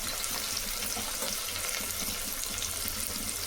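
Shallots and garlic frying in hot oil in a dry-heated pan, a steady dense sizzle with crackling that runs without pause throughout, close and even in loudness, no voices.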